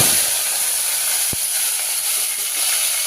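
Cut potatoes sizzle in hot oil with mustard seeds and curry leaves for a cauliflower masala curry, making a steady, dense hiss that carries on without a break, with no talking over it.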